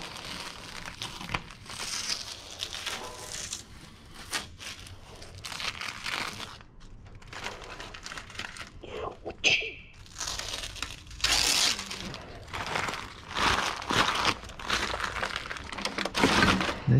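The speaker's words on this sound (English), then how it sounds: "as I'm putting the tape down" Tape being pulled and laid down on a painted mural: crinkly tearing and crackling rustles that come and go, some louder bursts of ripping, fairly close.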